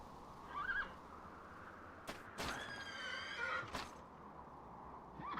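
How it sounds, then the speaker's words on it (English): A horse in the video game Dragon Quest 8 Remastered lets out a long, wavering whinny in the middle of the clip, loud and close over a quiet game background. "At first I saw only a horse."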